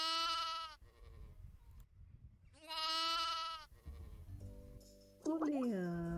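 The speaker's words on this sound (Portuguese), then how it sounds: "Primeiro a ovelha." A sheep bleats twice in loud, quavering calls with a pause between them, followed by a brief voice and other tonal sounds.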